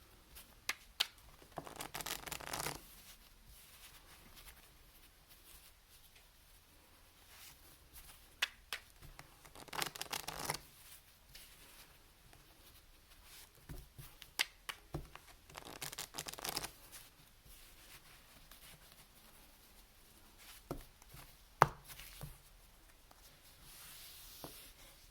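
Playing cards handled in a push-through shuffle, with short bursts of close papery riffling and snapping separated by quiet pauses, soft overall and irregular, with no talking.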